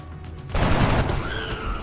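Gunfire in XCOM erupts suddenly after a quiet moment, a loud burst of rapid shots with a ringing mechanical tail, close and without speech.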